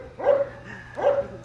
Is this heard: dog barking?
yes